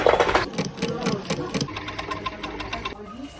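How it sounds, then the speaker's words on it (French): Sewing machine running in short spurts, a rhythmic clattering needle action with quick repeated ticks, close by, mixed with a brief voice at the start. "En couture, j'utilise la machine à coudre et j'adore faire des coutures invisibles aussi."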